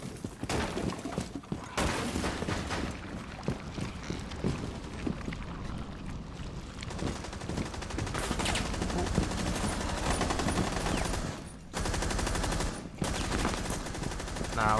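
Bursts of LMG fire in the video game Rainbow Six Extraction crackle loud and close in long sustained volleys, broken by a few short pauses, with no clear talk over them.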